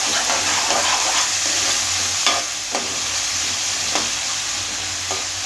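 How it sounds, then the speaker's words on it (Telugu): Onions fry in a pan until golden for an egg curry, a loud, steady, close sizzle with a few occasional stirring scrapes and no voices. "ఇది ఆనియన్స్ ఫ్రై చేసుకోండి. గోల్డెన్ కలర్ వచ్చే వరకు ఫ్రై చేయండి మంచిగా"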